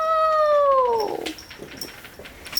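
Cats shut inside a pet carrier let out one long, loud, drawn-out meow close by, falling in pitch before fading into quieter rustling, with a person's brief exclamation near the end.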